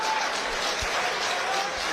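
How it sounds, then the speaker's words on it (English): Audience applause at a live USA vs UK transatlantic boxing event, a dense, steady wash of many hands clapping at close range for the full stretch, with crowd noise mixed in. "Give a round of applause for these guys."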